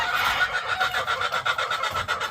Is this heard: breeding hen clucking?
yes